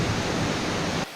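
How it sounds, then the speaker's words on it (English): Waterfall nearby in a wooded campsite along the Old Loggers Path, a loud, steady rushing hiss of falling water that cuts off abruptly at the end. "So the waterfall I just videoed is right down over there"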